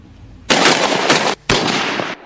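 Two loud, sharp sniper rifle shots from Korean sniper live-fire training, each a harsh, booming blast with a ringing tail, close together with a short gap between them.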